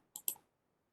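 Two quick, quiet clicks, like a computer mouse button being pressed, followed by silence.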